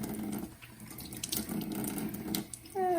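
Kitchen tap water runs over a hand and an egg to rinse off excess egg white, a steady close splashing stream that gets louder and fuller near the end.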